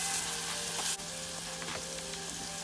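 Four garlic cloves sizzling steadily in a hot pan, with a constant crackling hiss and a few soft stirring taps, and no voices.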